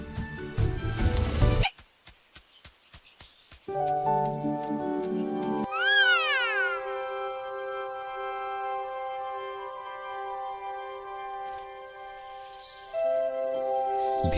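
A cat meows several times, with clear rising and falling cries, close by and fairly loud, with gaps of quiet between them.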